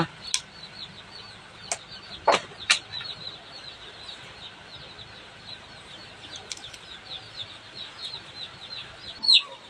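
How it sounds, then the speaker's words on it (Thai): Chickens cluck and squawk in scattered short bursts against a soft outdoor background, with a few sharp, louder calls standing out. "ได้ยินเสียงไก่เสียงกา"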